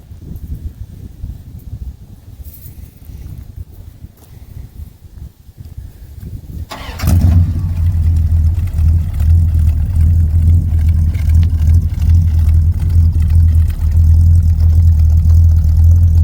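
A 1978 Dodge truck engine with a manual choke cranks briefly, then fires and settles into a loud, deep, steady idle that rumbles on close by.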